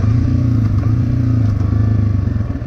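A dirt bike engine revs hard and loud during a downshift, a steady, rough mechanical drone close to the listener with no pauses.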